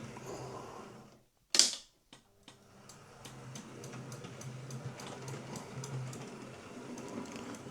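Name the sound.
Hornby B1 model locomotive clicking while running in reverse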